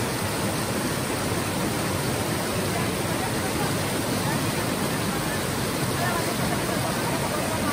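A swollen, flooded river rushing past, a steady, loud broadband wash of water that fills the whole stretch without pause.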